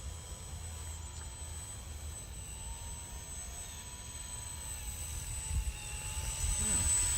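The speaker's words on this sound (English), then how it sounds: "Very smooth helicopter." An Esky 300 v2 mini six-channel remote control helicopter flies outdoors on a breezy day, its motor and rotors giving a steady whine and hum that grows slightly louder toward the end, over some wind noise.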